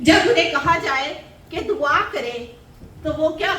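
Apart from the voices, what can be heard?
No distinct noise like a dog, phone or traffic.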